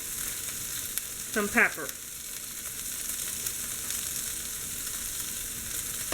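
Corn frying in a pan with a steady, low sizzle running throughout, broken briefly by a short spoken remark near the start.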